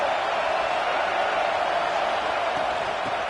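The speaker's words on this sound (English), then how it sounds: "This crowd bringing the energy and noise early." A football stadium crowd roars loudly and continuously through a home game against Bama, a dense wash of voices with no distinct cheers standing out.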